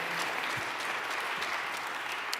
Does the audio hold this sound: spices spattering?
no